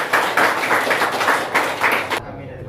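Classroom audience clapping after a group's physics presentation on waves, a dense burst of many hands lasting about two seconds before stopping abruptly.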